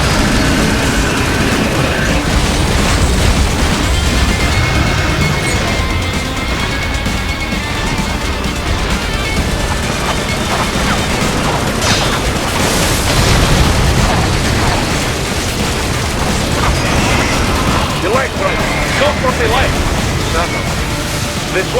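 Plasma cannon blasts and booming explosions fill a Metal Gear Rising battle against a heavily armored machine, dense and loud, with game voices speaking over the continuous combat.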